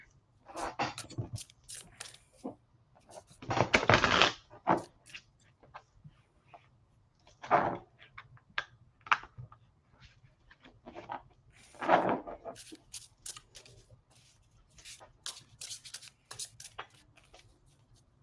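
Soft, papery riffling and flicking of tarot cards being shuffled close by, in short irregular bursts separated by quiet pauses.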